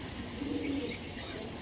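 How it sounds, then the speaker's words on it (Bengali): A Giribaz pigeon perched up high gives a short, low coo, faint against steady background noise. "কবুতরটি উপরে উঠে বসে আছে"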